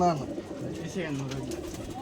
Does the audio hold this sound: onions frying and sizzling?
no